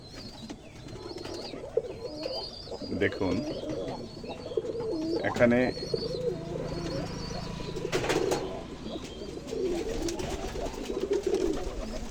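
Pigeons coo softly and repeatedly at close range while feeding, with scattered pecking and shuffling sounds and a few brief spoken words over the birds.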